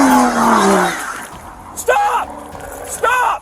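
A stolen BMW speeds off with tires skidding in two sharp, squealing bursts over a rumbling engine, while people shout nearby.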